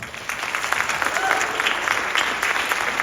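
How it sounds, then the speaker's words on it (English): A school concert audience claps steadily throughout, a dense continuous round of applause from a sizable crowd, with faint voices mixed in. "Can y'all give them one more round of applause?"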